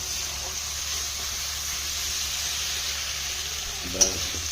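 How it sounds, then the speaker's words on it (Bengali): Kashmiri chili powder sautéing in a pan while being stirred, a steady soft sizzle throughout with a brief louder scrape near the end. "লঙ্কা গুঁড়ো দেওয়া হলো এটাকে কষা হবে"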